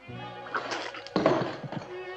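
Water splashed onto a man in an old Zorro drama, a brief watery splatter with a sharp burst in the middle, mixed with a muffled voice.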